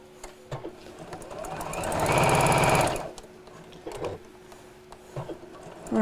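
A sewing machine stitching the hem of a Christmas apron, a loud, fast, even mechanical whirr lasting about a second, framed by quieter handling clicks and rustling fabric close by.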